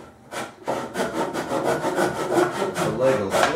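Hand saw cutting a quarter inch off the corner of a wooden card table leg, with steady rhythmic back-and-forth strokes after a brief start, close and fairly loud.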